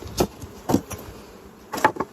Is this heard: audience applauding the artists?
no